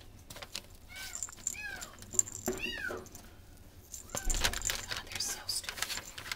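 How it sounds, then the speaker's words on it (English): Kittens give several short, high meows at close range, with soft rustling and tapping noises and a little quiet talking in between. "These are some cute kitties."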